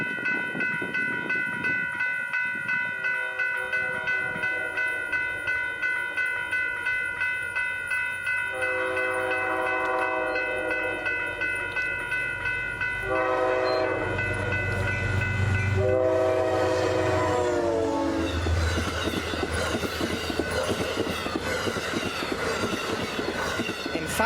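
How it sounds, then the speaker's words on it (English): Northbound Amtrak train led by a P32AC-DM locomotive numbered 709 passing at Manitou, New York, loud and close with sustained horn blasts and rumbling, clattering wheels throughout. "Behind 8834 was Amtrak P233 with 709 leading,"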